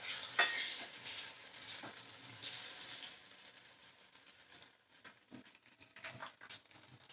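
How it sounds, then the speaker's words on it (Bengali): Vegetables for pasta frying in a pan, with a soft sizzle under occasional stirring and scraping, faint and close, growing quieter and more broken toward the end. "দেখো সব সবজি ভাজা হয়ে গেছে"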